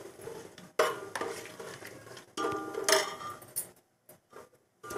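Whole garam masala spices stirred in a pan for veg pulao, with sharp metallic scrapes and clinks of a spoon against the pan in uneven bursts, separated by short quiet gaps.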